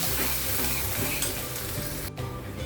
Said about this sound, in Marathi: त्यानंतर कांदा चांगला सोनेरी होईपर्यंत परतवायचा।